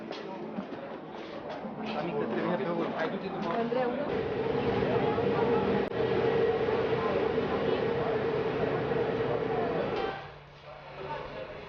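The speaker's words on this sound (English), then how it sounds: "We board a resort train bound for the coast of the Black Sea in the east." Early 1990s resort train bound for the Black Sea coast rumbles steadily along, a continuous rolling drone with a faint sustained tone, while a voice talks over it throughout.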